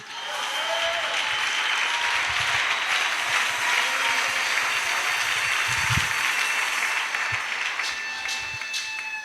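A church congregation claps steadily and loudly to acclaim Jesus, a dense, continuous wash of applause lasting several seconds with only faint voices beneath.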